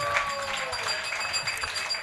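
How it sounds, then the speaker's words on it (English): Wedding guests give the speakers a round of applause, a moderately loud patter of many hands clapping in a reception room, with some voices mixed in. "Let's give all our speakers a round of applause, please."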